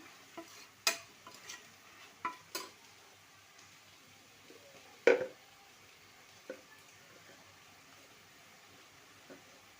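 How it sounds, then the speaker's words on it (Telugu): Mushrooms cooking in a pressure cooker for mushroom biryani make a quiet background simmer, punctuated by sparse utensil clicks and one sharper knock midway. "ఒక ఫైవ్ మినిట్స్ అయితే మగ్గనివ్వాలి మష్రూమ్స్ని"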